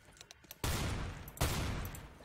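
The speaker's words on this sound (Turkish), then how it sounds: "Abi silah ateş ediyor ya" Gunfire in CS:GO on a jailbreak server, two sudden bursts of rapid shots that start sharply and taper over most of a second each, preceded by a few quieter clicks, loud and close with no speech.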